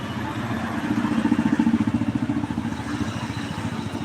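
A tractor's diesel engine idles nearby with a steady, rapid chugging rumble that swells slightly in the middle and continues throughout.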